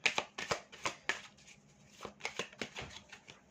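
Playing cards handled and shuffled at close range, a run of crisp riffling flutters and soft slaps coming in quick uneven bursts, with no voices over them.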